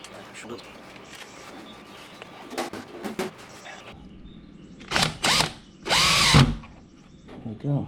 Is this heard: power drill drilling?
yes